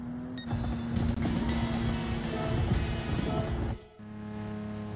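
A race car in Gran Turismo 7 revs hard through a corner exit on a license test, its engine a loud sustained roar that cuts out abruptly near the end before a quieter idle tone.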